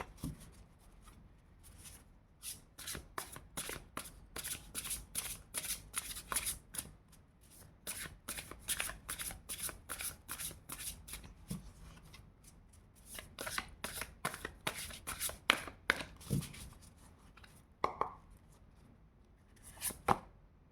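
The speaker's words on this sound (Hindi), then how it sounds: "और अभी हम 2 कार्ड लेंगे इस वाले डेक से, क्रो डेक से।" A crow oracle deck of cards is shuffled and drawn, giving a steady run of quick, crisp riffling flicks with a few pauses. The sound is soft and close, with no voices over it.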